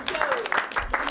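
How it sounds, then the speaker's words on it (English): Children in a classroom clap for themselves after a residential visit to the Isle of Wight, a short burst of light, uneven applause mixed with chatter and voices. "give yourselves a round of applause"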